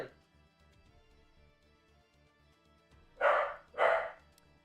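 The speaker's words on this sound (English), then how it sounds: "He's barking at my vents." A dog barks twice in quick succession, close and sharp, after several seconds of a quiet indoor background hum with faint steady tones.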